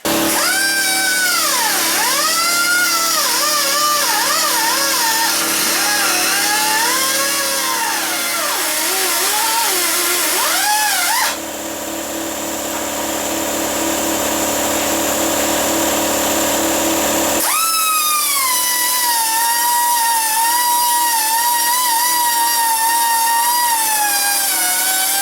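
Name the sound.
power tool cutting weld on car K-member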